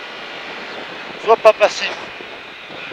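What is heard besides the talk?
racing engine on track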